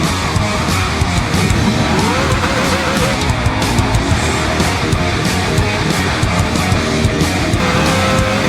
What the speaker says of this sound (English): Can we break Stefan Bellof record in the Porsche 956 around the Nürburgring